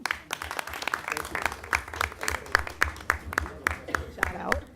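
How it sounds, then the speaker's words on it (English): A room full of people at a lunch-and-learn talk applauds, a dense run of close claps that rises and falls, with voices mixed in among the clapping. "I would like you all to give a round of applause to yourselves and Mr. Westmoreland for being here today."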